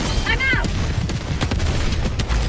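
Cannon turrets fire in the video game Helldivers 2, a max-difficulty solo mission: several sharp booms and crackling shots burst over a steady bed of battle noise, with a brief whistling sweep early on.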